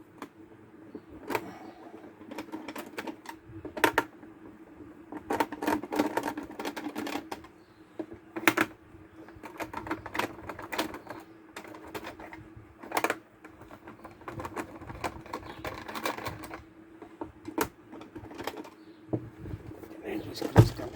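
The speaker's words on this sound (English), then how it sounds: "And the screws come out." Screws being worked loose from the bottom of a UPS battery case, a faint, repeated scrape and clicking of a screwdriver with occasional sharper ticks and handling knocks close by.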